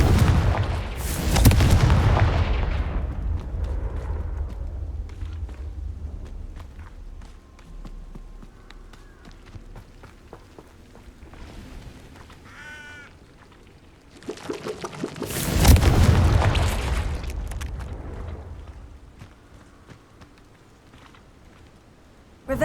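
Confringo fire-spell blasts in Hogwarts Legacy: two loud booming explosions, one near the start and one midway, each with a roaring burst that decays, separated by quieter game ambience and clicks.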